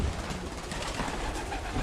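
Young racing pigeons coo softly in a loft, a low steady murmur of several birds close by with no talk.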